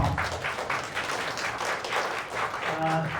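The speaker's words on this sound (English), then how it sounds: "Please give him a round of applause." Audience applause at a PyCon Hong Kong 2024 conference talk, a steady wash of clapping from a seated crowd that carries through the whole moment, with a voice briefly breaking in near the end.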